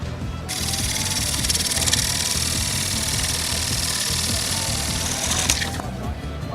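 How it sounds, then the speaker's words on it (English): A thin pointed parting tool cutting into a wooden bowl on a spinning lathe, a continuous bright scraping hiss over the low motor hum, starting sharply and holding steady before tapering off. "I'm going to use this thin pointed parting tool to separate the bowl from the rest of the wood on the lathe"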